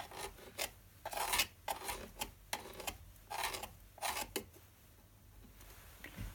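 A sculpting stick scrapes plasticine along a mould for a silicone form, a series of close rasping strokes in an uneven rhythm, quiet and fading toward the end.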